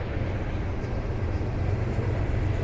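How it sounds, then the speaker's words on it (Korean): A US freight train hauled and pushed by twelve large locomotives rolls past with a steady, dense rumble and rattle, continuous and moderately loud, with no talk. "이런 그 대형 기관차 12대가 끌고 밀고 이 대륙을 지나가는 겁니다"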